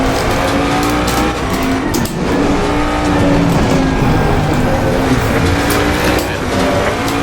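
Race car engine roaring steadily at Spa Francorchamps in a racing video game, loud and continuous with shifting pitch and occasional tire squeal, no voices.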